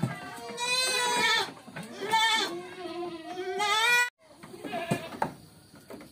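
Goats bleat repeatedly on a goat farm, loud and close, in long wavering cries. A brief pause comes before more bleating and some rustling.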